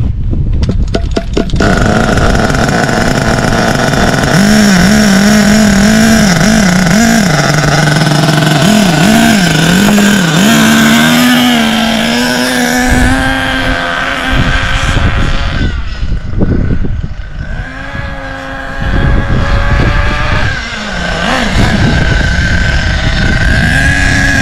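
Thunder Tiger EB4 S2.5 nitro RC buggy engine running in at low throttle, a loud, continuous buzzing drone that holds steady and then wavers and dips near the end, with no talking.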